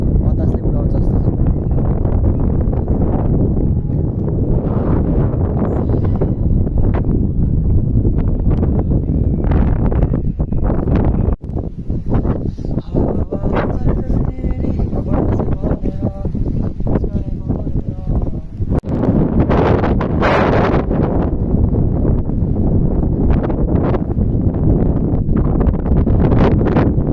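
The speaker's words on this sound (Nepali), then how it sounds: "बतासले उडाउँछ जस्तो छ।" Strong wind buffets the microphone on an exposed hilltop ridge, a loud continuous roar and rumble that drowns almost everything else, with no clear talk.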